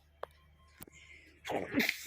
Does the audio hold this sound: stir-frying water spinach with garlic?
no